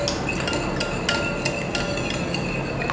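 Eggs whisked lightly in a bowl for a chocolate fondant cake make a steady scraping patter, with sharper clinks of utensil on the bowl scattered throughout and no talk.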